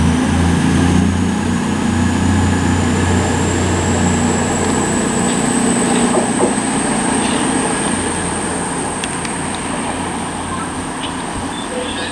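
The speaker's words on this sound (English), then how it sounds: "the plan now is the 1332 cross-country service to Plymouth from Glasgow Central" A CrossCountry Class 220 passenger train, the Glasgow Central to Plymouth service, passes through Bristol Parkway station on the Great Western Main Line. It makes a loud sustained rumble with an engine drone and a rising whine that slowly fades.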